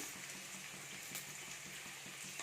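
Onions frying in oil in a pan for a South Indian vada curry, a steady close sizzle with faint crackling and soft bubbling throughout, no voices.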